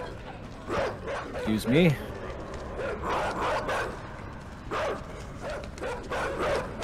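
Dogs in the video game Inside barking and yipping in short repeated bursts at mid distance, mixed with whimpering, while a voice talks over part of it.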